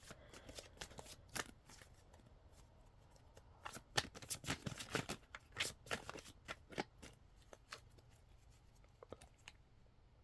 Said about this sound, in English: Oh, my shuffling.